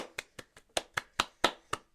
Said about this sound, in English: round of applause for Trevor